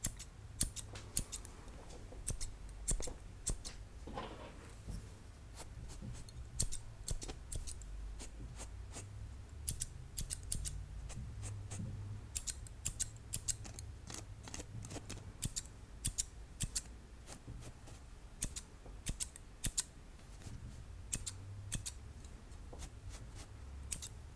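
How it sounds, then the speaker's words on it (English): Scissors snip repeatedly during an ASMR haircut, the crisp cuts coming in quick irregular bursts with a slightly deep tone, close and quiet over a soft low background hum. "they do have a slightly deeper sound of the snips"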